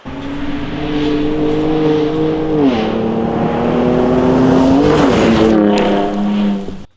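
A Ford Ranger Raptor fitted with a custom exhaust system revs hard, its engine note climbing and dipping in long sustained pulls, loud and close with no talking.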